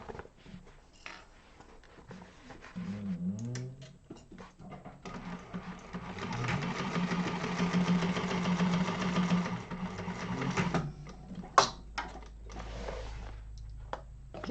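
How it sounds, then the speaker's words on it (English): A sewing machine runs a second row of stitching on a fabric bag, a steady mechanical whirr building and holding for several seconds, with softer handling noises before and after, close and alone. "So I can go in with my second row stitching here."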